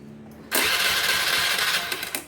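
A Honda Vario motorcycle with a clogged breather hose and weak compression, started cold in a repair workshop after yesterday's work; a brief quiet hum gives way abruptly to the engine catching and running loud, steady and close, with no talk.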